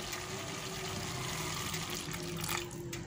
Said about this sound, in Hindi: अब आधा गिलास पानी डाल के